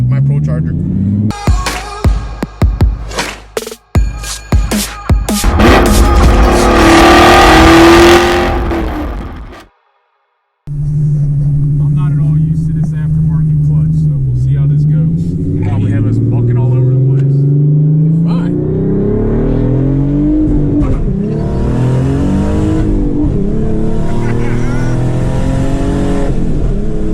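A twin-turbo V6 car accelerates hard and shifts gears, engine note climbing and dropping through several shifts after a choppy, jerky start and a brief cut to silence, loud and close from inside the cabin.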